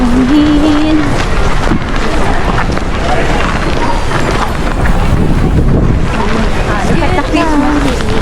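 Strong, cold wind roars and buffets the microphone steadily in Rovaniemi, Lapland, in winter, with a voice speaking briefly over the gusts.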